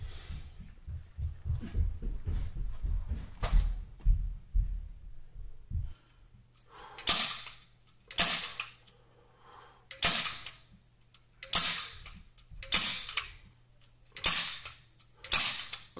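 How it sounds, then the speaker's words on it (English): A staple gun fires repeatedly through fabric wrap into an acoustic panel, about seven sharp snapping shots at a regular pace after some earlier handling and rustling, close and clear with no talk. "Then I'm going to staple that layer."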